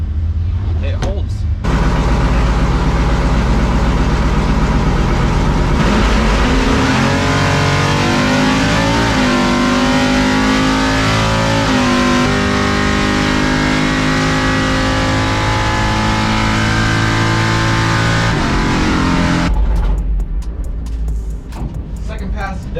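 A C10 drag truck makes a loud bracket racing pass at a drag strip, its engine roaring through a long wide-open run with shifting pitch, then cutting off near the end.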